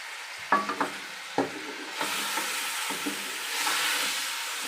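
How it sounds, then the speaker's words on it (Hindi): Mutton frying with salt in a karahi for a Peshawari Shinwari dish: a steady sizzle builds under a few sharp stirring scrapes and clinks near the start, then a continuous hissing fry carries on close by with no voices. "इसको डालने के बाद अब हम 1-2 मिनट इसको हल्का सा भूनेंगे"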